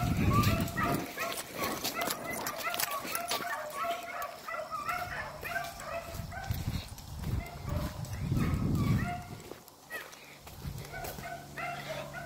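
A dog crashes through dense phragmites reeds chasing a rabbit, with rustling and scattered barks and whimpers close by, while birds chirp steadily in the background and a person talks intermittently.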